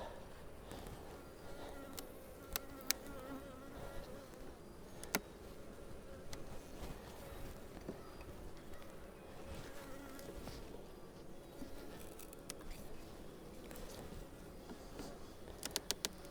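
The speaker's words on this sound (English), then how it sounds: "Bees all the way across." Honey bees humming during a hive inspection, a faint, steady, close drone of many wings with occasional light clicks and taps from handling the hive frames.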